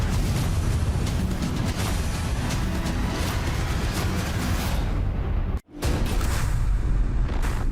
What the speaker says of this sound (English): Cue the explosion.